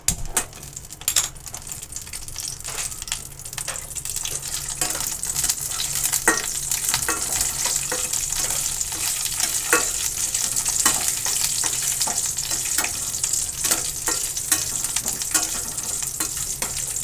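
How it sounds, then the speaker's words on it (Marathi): Dry fruits frying in ghee for a shirch prasad, a steady crackling sizzle close up, with scattered clicks and light taps of a spoon stirring against the pan throughout. "तेच तूप आपण ड्रायफ्रूट तळण्यासाठी घेणार आहोत"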